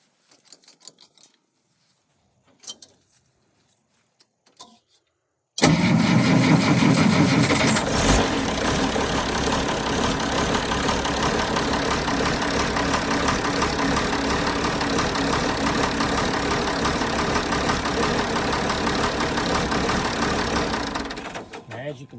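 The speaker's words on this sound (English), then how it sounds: "You want to start the tractor and" An Allis-Chalmers D17 tractor engine cranks over after a few faint knocks and then settles into a steady, loud, close idle that runs for about fifteen seconds before dropping away at the end.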